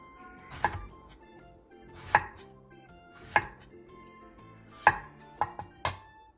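A knife slices two eggplants on the bias into thin pieces, giving a handful of separate sharp cuts against a board spaced about a second apart, closer together near the end, with no talk.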